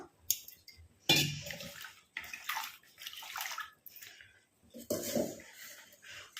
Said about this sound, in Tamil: இப்போ இதில் வந்து தண்ணி ஊற்றி நம்ம வாஷ் பண்ணிட்டு எடுத்துக்கலாம்.